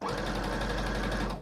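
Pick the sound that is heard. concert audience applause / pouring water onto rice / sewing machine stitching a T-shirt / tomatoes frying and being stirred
sewing machine stitching a T-shirt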